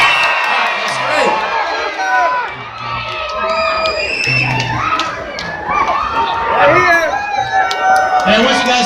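Crowd screaming and cheering at a Busch Gardens Williamsburg announcement for the Tempesto ride, loud and sustained with children's shrieks and a voice calling out over them.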